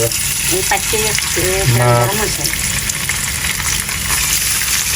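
Shrimp frying in hot oil in a kadai, with a loud continuous sizzle close up and a few brief tonal squeaks near the start, and no voices.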